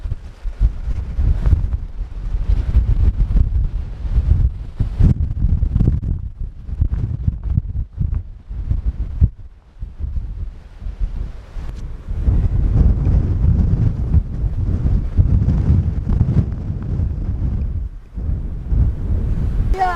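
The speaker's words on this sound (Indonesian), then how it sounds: "itu sebenarnya angin, bukan hujan ya" Strong wind blasts across a foggy mountain summit on Gunung Bismo and buffets the microphone with a loud, continuous roar that rises and falls in gusts.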